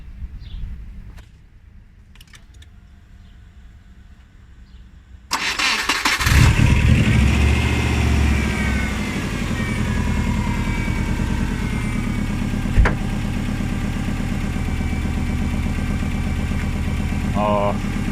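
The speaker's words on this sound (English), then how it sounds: "I'm just going to start the engine and just let it do its thing." A car engine cranks and catches after an oil change, then settles into a steady, loud idle with a smooth, even hum; a brief clunk is heard midway.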